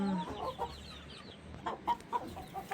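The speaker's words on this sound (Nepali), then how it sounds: "यो चाहिँ ठुलो भाले छ" A big rooster clucks close by in short, uneven bursts, with a few louder clucks toward the end over a quiet farmyard background.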